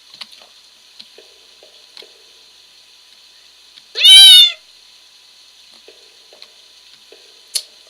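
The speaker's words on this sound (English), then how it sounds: "Already I have a cat." A cat meows once inside the video game Home, a single clear, loud, drawn-out cry midway through an otherwise near-silent stretch of faint ticks and a steady high tone.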